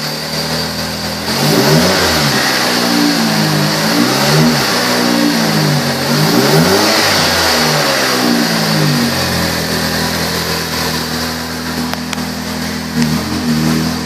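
Engine of a 2013 Chrysler 200 with its rear resonator cut off revs loudly and repeatedly, rising and falling through several throttle blips before settling toward idle, close and continuous without talk.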